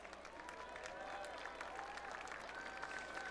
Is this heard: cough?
no